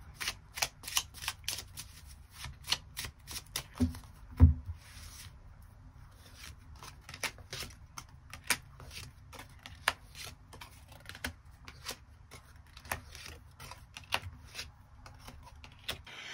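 Tarot cards are shuffled and drawn in a steady flurry of soft riffling flicks and rubs, close and quiet, continuing for many seconds with brief pauses.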